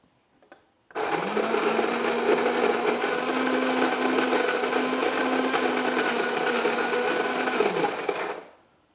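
Electric coffee grinder whirring steadily as it grinds beans to a medium grind, starting abruptly after a second of quiet and running continuously for about seven seconds before winding down, loud and close.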